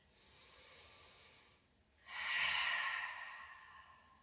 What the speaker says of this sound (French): Si j'en ai besoin, j'expire par la bouche.